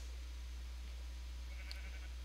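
A sheep bleats once in a video game, a short, fairly faint call late in the clip over a steady low hum, with no talk.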